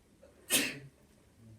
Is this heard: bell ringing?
no